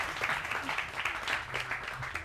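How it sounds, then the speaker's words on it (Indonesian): Soft, fairly distant applause from an audience at an alumni sharing session, a steady patter of clapping with little else over it. "kita kasih tepuk tangan juga untuk Kak Hafiz"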